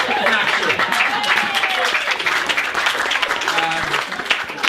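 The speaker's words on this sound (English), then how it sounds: "Why are people clapping?" A group of people claps in a room, a continuous patter of applause with voices talking over it the whole time.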